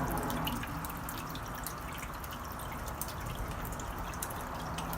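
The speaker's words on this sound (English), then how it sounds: "This is just a fountain, and that one's just a fountain with duckweed." A small fountain in an outdoor tank of water with duckweed makes a soft, continuous trickle with scattered light drips, faint and steady with no voices.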